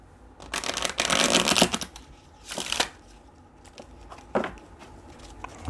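Tarot cards shuffled by hand, with a long riffling burst followed by shorter flutters and a few soft snaps, close and fairly loud, with no talking.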